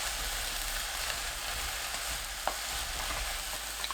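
Brussels sprouts are stirred in a frying pan after steaming under a lid, with a steady soft sizzle and one brief scrape of the utensil, close and quiet, with no talk.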